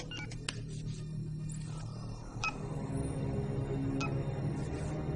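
Satellite phone keypad tones: a few short, separate beeps sound over a low background hum. They are fairly faint and irregularly spaced.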